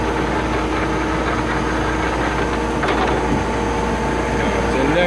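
Hofler H 100 gear grinder machine running in a workshop, giving a steady loud mechanical hum and drone with a faint metallic whine throughout.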